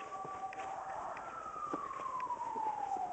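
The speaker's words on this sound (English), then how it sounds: "Why won't that siren shut up?" A distant siren wails with a slowly falling pitch, faint but steady over low background noise.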